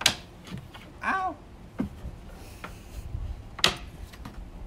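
Camper kitchen drawer on a TAXA TigerMoth trailer being handled, with scattered sharp clicks, knocks and a brief sliding scrape, some close and some fainter, with no talking.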